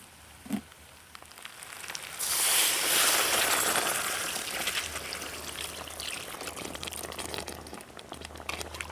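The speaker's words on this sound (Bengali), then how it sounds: "এবার আমি মাংস সিদ্ধ করে রাখা জলটা আমি দিয়ে দেব" Reserved mutton boiling water is poured into a pot of mutton curry with potatoes, making a rushing splash that swells for a couple of seconds, then settles into steady bubbling and sizzling.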